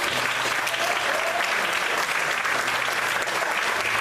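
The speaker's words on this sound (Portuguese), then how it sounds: "Você pode aplaudir a Deus por isso." A church congregation claps steadily and loudly throughout, a dense, even wash of applause with no pauses.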